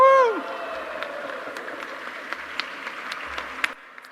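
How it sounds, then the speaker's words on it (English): A crowd in a film being played applauds with scattered, moderately sparse claps after a brief voiced whoop at the start, the clapping cutting off abruptly near the end. "People were applauding on the film"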